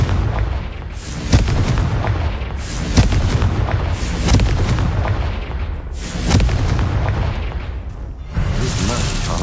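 Repeated Confringo blasting spells in Hogwarts Legacy burst one after another as loud booming explosions, several heavy blasts with rumbling tails, partly under a voice.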